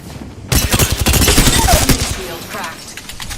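Rapid bursts of automatic gunfire and shield impacts from a sci-fi shooter game erupt suddenly after a brief quiet, dense and loud for about two seconds, then taper into lighter effects.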